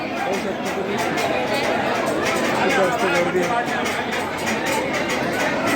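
Dense crowd chatter fills the grounds of Omkareshwar temple, a steady wash of many overlapping voices close around with no single speaker standing out.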